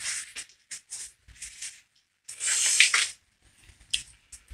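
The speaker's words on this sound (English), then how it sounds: "Take the nuts, make sure they're clean, give them the spray." Several short hisses of aerosol cleaner sprayed onto engine nuts during a Ford GT40 engine build, coming in quick bursts with one longer, louder spray in the middle; close and alone, with no voices.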